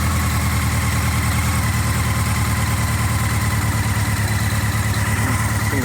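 A Honda CB650 Nighthawk motorcycle engine idles steadily after a carburetor overhaul, a low, even rumble with a fast regular pulse, close and continuous throughout with no talking.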